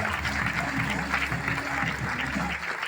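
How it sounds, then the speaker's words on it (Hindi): An audience in a hall claps together in a steady, even burst, a dense continuous patter of hands close by with faint music and crowd murmur beneath. "यस, तालियां जोरदार होनी चाहिए।"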